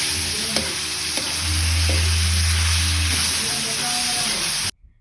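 Ground pork sautéing with garlic and onion for a Noche Buena dish gives a steady, close sizzle. A low hum swells midway, a few faint knocks punctuate the frying, and the sound cuts off sharply near the end.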